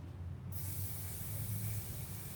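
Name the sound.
spray paint can sprayed upside down to clean the tip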